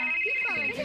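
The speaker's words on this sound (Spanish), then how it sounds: "¡Teléfono!" A telephone rings in a home kitchen during cooking, a steady electronic tone held for under a second with a voice talking over it.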